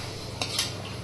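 A utensil stirs cauliflower chops in a metal cooking pan, two quick scraping clinks standing out over a faint steady background.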